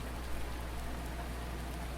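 Steady rainfall in the farming video game Farming Simulator 19, a continuous even hiss of falling rain with no breaks and no voices.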